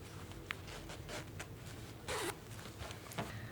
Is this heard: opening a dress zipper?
yes